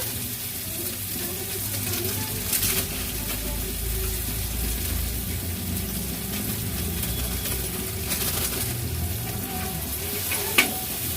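Steady sizzling of vegetables with tomato and spices frying in a hot pan for dal tempering, with scraping stirring strokes and a sharp clink near the end.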